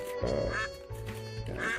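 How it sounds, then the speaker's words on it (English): Cartoonish duck quacks from the quack button in the video game Duck Detective, several loud nasal honks in quick succession over a steady game backdrop. "of course it has a dedicated quack button"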